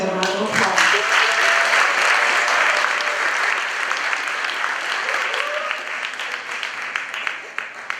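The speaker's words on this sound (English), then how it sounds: "Let's give these young ladies a round of applause." A school audience at a high school cord ceremony applauds steadily for the young ladies, a loud, dense wash of clapping that slowly thins and fades toward the end.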